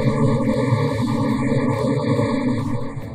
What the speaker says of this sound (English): you replace the talker with the source of the STI test signal